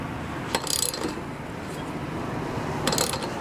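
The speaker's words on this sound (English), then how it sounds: "Now it's important to know this torque specification, which is 35 foot-pounds. So I have my torque wrench out." A torque wrench ratchets while tightening the flywheel nut to 35 foot-pounds on a Tecumseh lawnmower engine, with two short bursts of clicking separated by a quieter mechanical pause, close and fairly loud.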